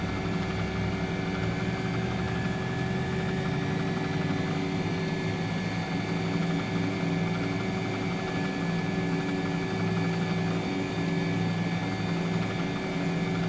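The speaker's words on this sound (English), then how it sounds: "And the right engine, the left engine is now starting." An MD-80 jet engine in the X-Plane 10 flight simulator spools up as it starts, giving a steady, loud whine over a low rumble. Tonal layers hold for the full span with no talk over them.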